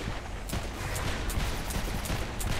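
Sustained gunfire rattles through Saints Row IV, a dense, continuous barrage of overlapping shots with sharp cracks standing out at irregular intervals, loud and close throughout.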